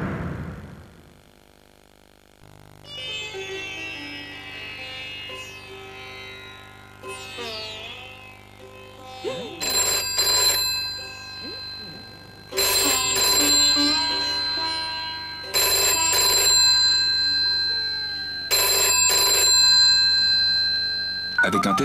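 An integrated answering-machine telephone from Télécom PTT rings in repeated loud electronic bursts, four evenly spaced tones following a quieter musical lead-in.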